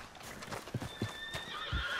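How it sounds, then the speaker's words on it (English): Horses in Red Dead Redemption 2 neigh and whinny with a long, high call, over scattered hoof clip-clops and low thuds. "Man, those horses are going crazy."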